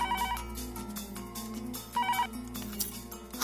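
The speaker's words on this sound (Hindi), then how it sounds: "तू देख तो सही किसका फोन है।" A mobile phone ringtone plays indoors, a repeating electronic melody with tone bursts that recur about every two seconds, steady and moderately loud, with no speech over it.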